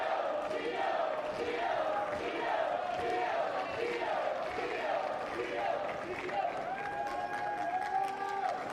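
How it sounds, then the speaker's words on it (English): A home crowd at a London 2012 Paralympic wheelchair tennis match cheers and claps steadily, with a continuous crowd roar that stays fairly faint and distant and shows no clear pauses. "Home crowd doing their best to Thank you. raise the home player, Gordon Reid."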